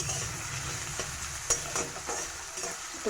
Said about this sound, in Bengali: ভালো করে ভেজে নেবে যতক্ষণ পর্যন্ত না রসুনের কাঁচা গন্ধটা চলে যাচ্ছে